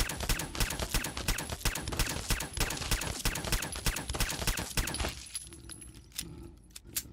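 Rapid, sharp pops from a .22 pistol in a Fallout 4 mod fire in a fast, steady string of dozens of close shots, then slow to a few isolated cracks near the end.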